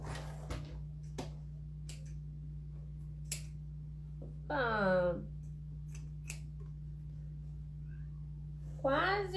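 Scissors cutting fabric while sewing a shoulder bag, a sparse series of crisp, close snips with a steady hum underneath and a voice speaking briefly in between.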